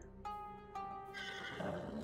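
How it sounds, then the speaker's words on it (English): The winged horse Pegasus in the Age of Mythology video game gives a sharp neigh, then a second whinny, then a longer, rising whinny, all loud and clear in quick succession. "Where is that flying horse thingy?"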